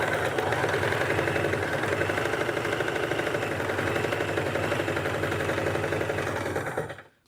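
A sewing machine stitches quilt blocks using a masking-tape quarter-inch guide, giving a steady, continuous motor whir with fast mechanical chatter at close range, running without pause for about seven seconds before stopping abruptly.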